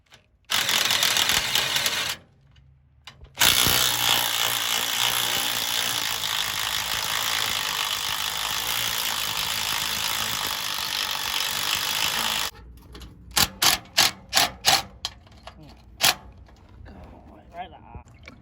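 Power tools grind and whir continuously at a rusty bolt on a trailer under restoration, with a brief pause early on, then a quick series of short ratcheting bursts near the end.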